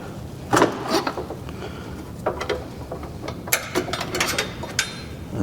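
Flat screwdriver prying two metal headlight brackets loose during an LED headlight install, giving a few sharp metallic clicks and scrapes in short bursts over a low background rumble, close and fairly loud.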